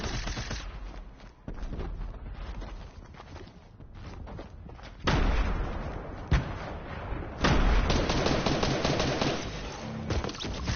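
Rapid gunfire and heavy impacts during a match of Caz and Z's shooter game, with bursts of shots and loud blasts in the second half over continuous game noise.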